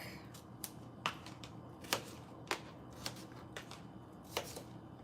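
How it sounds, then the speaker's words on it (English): A knife cuts cucumbers in half on a board, giving a series of crisp, irregular chops close by and quiet, with faint background noise between strikes. "I'm going to go ahead and cut these cucumbers in half"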